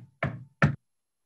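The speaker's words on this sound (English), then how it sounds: "he strode up to it and knocked on the door" Two firm knocks on the door of a moss-covered building in a wooded valley, close and distinct with a short pause between them, then silence.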